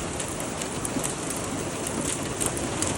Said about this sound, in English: now it's literally hailing